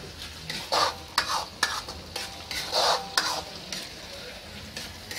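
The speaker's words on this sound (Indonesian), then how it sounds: "Sementara dalam proses penumisan ditumis." Ingredients for ilosingan, a dish of tender beef tendon and cow skin, are stir-fried in a pan: repeated close scraping strokes of the spatula over a soft, steady sizzle, with no voices.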